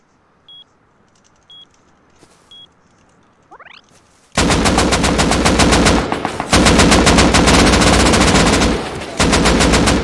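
Sustained automatic gunfire from a video game raid rattles loud and close in long bursts with a brief pause, preceded by a few soft beeps and a short rising whoosh.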